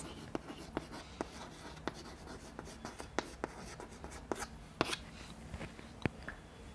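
Marker or chalk strokes on a board during a chemistry lecture, a series of short, sharp scratches and taps at irregular intervals over faint room hum, with no speech.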